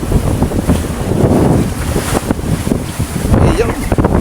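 A fishing boat runs at full throttle heading out onto the open Pacific in a northerly wind, its engine a steady drone buried under heavy wind buffeting and sea noise, with someone talking over it.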